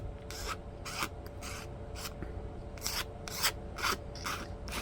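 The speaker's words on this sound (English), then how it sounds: "You do want to be careful when curling the file over or using your sandpaper here not to split the blade." Hand file working the rough edge of a 3D printed Hamilton Standard propeller blade, about nine short rasping strokes in a steady back-and-forth rhythm, close and fairly quiet.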